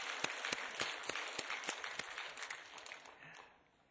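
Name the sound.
applause for a church choir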